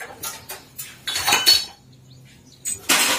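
Aluminium pots, pans and kettles clank and rattle as scrap is sorted, several separate bursts of metallic clatter with quiet gaps between, close by and with no talking.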